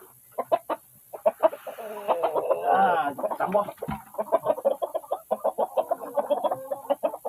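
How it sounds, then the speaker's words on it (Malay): Light Sussex hens clucking steadily in a coop while searching for a place to lay eggs, close and busy, with someone talking over them in short phrases. "Ayam ni dia cari tempat telur."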